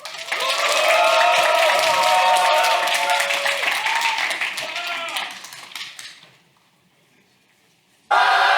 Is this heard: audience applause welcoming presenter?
yes